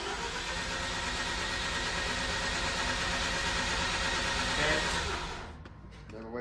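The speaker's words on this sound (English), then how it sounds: "clutch down, full throttle" A Mazda RX8 rotary engine fitted with a KBD kit revs hard at full throttle, a loud, sustained buzzing roar held steady for about five seconds before dropping off sharply toward idle.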